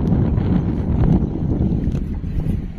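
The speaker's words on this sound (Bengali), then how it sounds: "আজকে যা হাওয়া দিচ্ছে" Strong wind roars steadily across the Matla River in the Sundarbans, buffeting the microphone in a continuous, loud rush.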